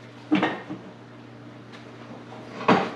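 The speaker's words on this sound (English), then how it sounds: "The next step now is to take a lid, cover it up" A lid set onto a pan covering pepperoni chicken topped with mozzarella, two clear clanks of metal on metal, one near the start and one near the end, close and alone over a quiet kitchen hum.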